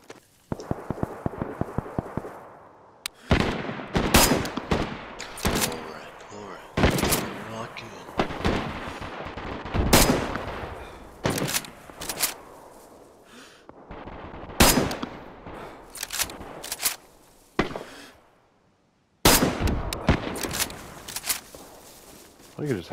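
M4 rifle fire in a video game: repeated sharp bursts and single shots, loud and close, with a short silent gap near the end; voices talk over some of the action.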